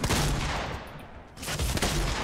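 Gunfire in Fortnite, a dense burst of rapid shots followed by a brief lull and another volley, loud and close with no one speaking.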